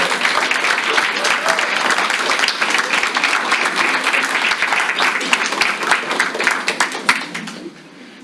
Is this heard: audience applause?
yes